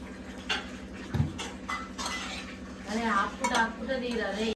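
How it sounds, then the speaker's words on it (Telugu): A pan set down on a stove gives a metallic clank, followed by soft clinks and handling noises as oil goes in, close by, with a voice talking in the latter part. "స్టవ్ పైన ప్యాన్ పెట్టేసి ఆయిల్ వేసుకుందాం."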